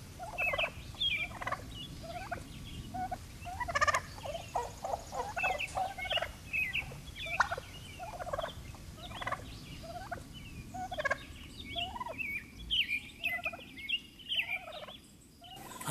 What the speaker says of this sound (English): Here's Katie with the turkeys.